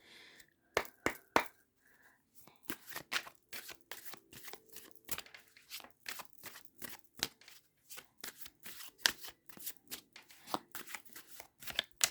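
A deck of Golden Art Nouveau tarot cards is shuffled close up, quiet crisp riffles and flicks repeating in irregular bursts with brief pauses between, alone without talking.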